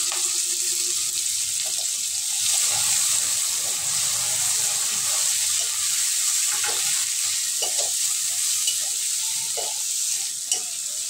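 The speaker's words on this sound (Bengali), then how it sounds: "এগুলো আমি এবার ভেজে নেব।" Chopped onion, garlic and green chillies frying in a pan, a close, continuous bright sizzle with scattered soft scrapes and taps of a stirring spoon throughout.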